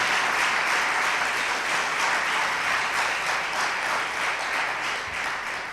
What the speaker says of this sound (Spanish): Vamos a brindarles un aplauso a todos ellos